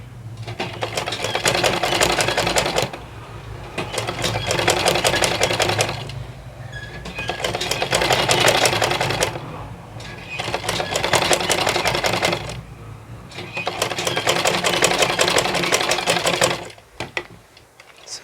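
A sewing machine stitches a single welt pocket, running in four long, loud, rapid bursts separated by brief pauses, with a near, buzzing mechanical chatter and no talk.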